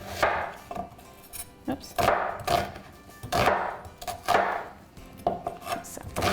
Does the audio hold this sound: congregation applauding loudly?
no